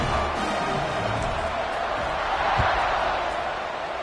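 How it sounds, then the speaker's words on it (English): A stadium crowd roars steadily at kickoff in a college football video game featuring Baylor, a dense, continuous wash of cheering with no breaks. "this crowd now ready to get behind them"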